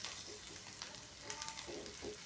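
Okra sizzling and frying in a pan for chutney, a steady dense crackle with soft stirring scrapes running throughout, close and fairly quiet with no voices.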